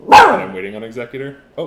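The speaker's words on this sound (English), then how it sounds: "That's my dog." A pet dog lets out one sharp, loud bark close by, followed by someone talking over a quieter trailing whine.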